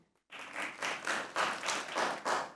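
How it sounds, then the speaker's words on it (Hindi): A studio audience at a comedy talk show claps after a brief silence, rising into moderate applause with rhythmic swells, fairly close and unaccompanied by speech. "तालियां बजाइए"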